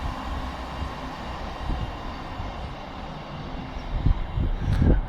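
A GBRF Class 66 diesel freight train rumbles past, a steady low mechanical roar and rolling noise from the wagons that swells and grows louder toward the end.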